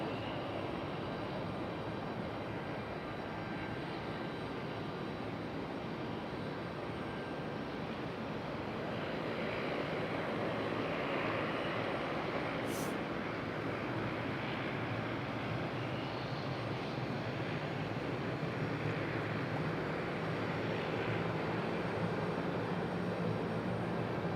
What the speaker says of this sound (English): There's our FedEx ATR finally.